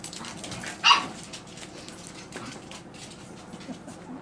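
Six-week-old Puggle puppies playing rough, giving one sharp yip or bark followed by faint whimpers and soft scuffling throughout, close by and fairly quiet.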